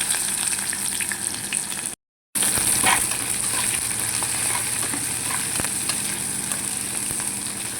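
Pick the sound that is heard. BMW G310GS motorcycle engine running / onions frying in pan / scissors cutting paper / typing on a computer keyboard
onions frying in pan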